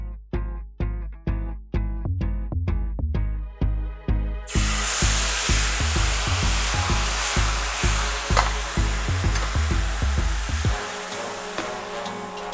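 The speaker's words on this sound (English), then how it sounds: "we deglaze the pan with a demi-glace we made earlier" A hot pan deglazed with demi-glace while searing steak erupts into loud, steady sizzling and hissing, preceded by a series of rhythmic knocking or tapping sounds, with the sizzle fading lower near the end.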